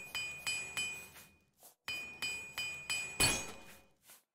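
Repairing a mace with a repair hammer in Oblivion: a quick series of metallic clinks in two bursts, each strike ringing bright and then decaying, with a short pause between the bursts.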